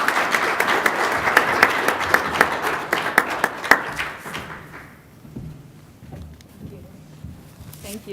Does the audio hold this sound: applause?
yes